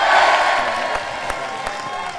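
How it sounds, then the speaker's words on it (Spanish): Crowd at a magic show applauding and cheering, a loud wash of clapping and voices that fades slightly over its short length. "un fuerte aplauso para ellos que están acá"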